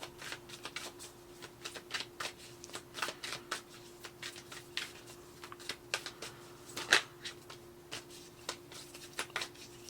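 A soft, buttery tarot deck is riffled and shuffled by hand in quick irregular bursts of papery flicks and taps, close and fairly quiet, over a faint steady hum.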